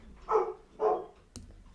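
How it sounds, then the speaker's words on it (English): Two dogs bark in two loud, separate bursts close by, followed by a brief knock, heard in a room during a live football watchalong. "of the dogs barking anyway"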